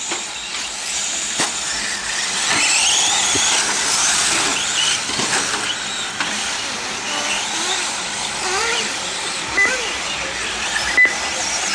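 Electric 4x4 RC trucks race around a track, their motors whining and buzzing in fluctuating waves with occasional sharp knocks, heard close over a steady background roar.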